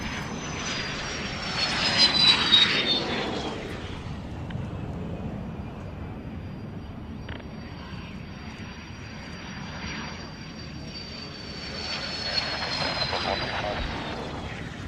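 Aircraft at the Royal International Air Tattoo 2022 roll down the runway on arrival, a jet engine roar and whine that swells, fades and builds again at a moderate distance.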